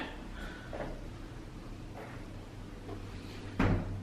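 A hotel room sliding door rolls and thumps shut, ending in one sharp close knock after faint earlier rattles in a quiet room.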